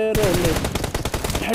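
A close, rapid burst of automatic gunfire crackles through a shooting video game, with the shots fired in a fast continuous rattle lasting about a second and a half.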